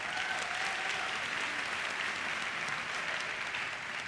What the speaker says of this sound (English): So a round of applause to them for the additional work.